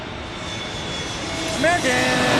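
An American Airlines airplane passes at San Diego airport, its steady engine roar filling the background, with a voice calling out over it briefly near the end.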